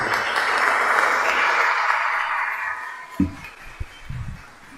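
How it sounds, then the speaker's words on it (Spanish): An audience at a criminal-law book presentation applauds warmly. The clapping is dense and sustained, then thins out and fades, with a few scattered claps and some soft thumps at the end. "Lo recibimos con un gran voto de aplauso."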